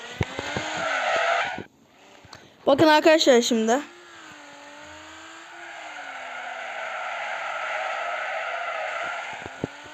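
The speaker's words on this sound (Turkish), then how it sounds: "Sonsuza kadar gidebiliyorum ben böyle drift atar" A video game car slides in a drift with a loud screeching tire squeal over a droning engine that falls and holds steady; someone speaks briefly during the skid.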